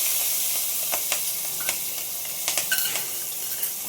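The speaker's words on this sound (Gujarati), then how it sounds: "આપણે જે આદુ મરચાં અને લસણ વાટેલું છે એ ઉમેરી દઈશું" Ground ginger, chili and garlic paste sizzles in hot oil as a tempering for dhokla, a continuous close crackle broken by several sharp spoon clicks against the pan, with no talking.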